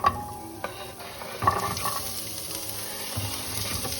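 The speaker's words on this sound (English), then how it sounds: "some Brussels sprouts, and onion in my pan with some lemon pepper, garlic powder, and salt." Sweet potato, Brussels sprouts and onion stirred in a pan with lemon pepper, garlic powder and salt, giving a steady close sizzle with scraping stir strokes and clatter.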